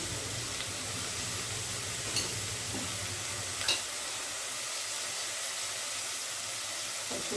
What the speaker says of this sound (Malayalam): ജസ്റ്റ് ഒന്ന് ഇളക്കി കൊടുക്കാം.